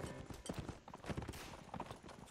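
Horse hooves clip-clop rapidly and continuously in the Mount and Blade 1866 video game, a fast galloping rhythm heard close and steady throughout.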